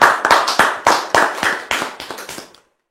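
About a dozen sharp hand claps ring out in quick, slightly uneven succession as a church gathering acclaims the Lord. The claps are close and crisp, soften toward the end, and stop abruptly.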